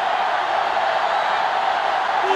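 Steady roar of a sellout stadium crowd in an NCAA Football video game, a dense, even wash of noise with no clear breaks.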